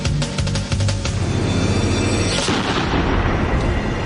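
A sniper rifle shot rings out loud and close, a sharp blast that decays into a long rumbling boom with no talk over it.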